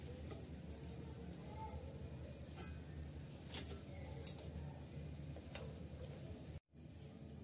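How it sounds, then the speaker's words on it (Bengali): Beef pizza snacks pinned with toothpicks frying in oil, a steady crackling sizzle that runs the whole time, with a few faint clinks and a brief sharp dropout near the end. "আমি এখন তেল ঝরিয়ে উঠিয়ে নিচ্ছি।"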